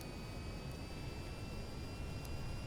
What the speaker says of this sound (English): I've got the engines pointed down, so it's behaving like a helicopter-ish.